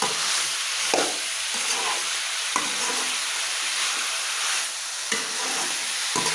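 Duck curry pieces with garlic fry in hot oil. A loud, continuous sizzle carries periodic scraping strokes as the pan is stirred, with no voices.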